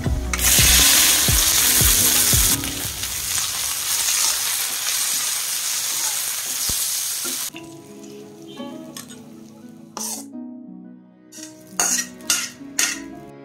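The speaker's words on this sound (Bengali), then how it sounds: "আর শুকনো লঙ্কা দুইটা, ভালো করে নেড়েচেড়ে ভেজে নিচ্ছি" Peanuts frying with two dried red chillies in a pan: a loud, dense sizzle for several seconds, then stirring with clinks and scrapes against the pan while the sizzle fades.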